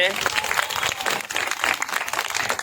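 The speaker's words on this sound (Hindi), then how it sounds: "आप लोग सब आदमी इसके लिए ताली बजाइए एक बार फिर से।" Spectators at a children's badminton game clap for a young fifth-grade player, a brief burst of rapid, moderately loud clapping with someone talking over it.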